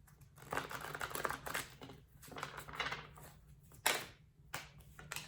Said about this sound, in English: Yeah, I'm giving it a quick shuffle.